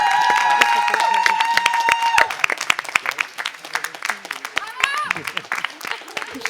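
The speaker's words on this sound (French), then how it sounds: "On applaudit bien fort l'équipe qui a gagné!" A studio audience applauds the winning team at a French game show, with dense, loud clapping that runs throughout, over music early on and with voices talking underneath.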